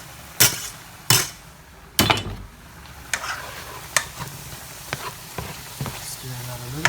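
Garlic sizzling in a pan for chicken penne, with a series of sharp spoon knocks and scrapes against the pan over a quieter frying hiss.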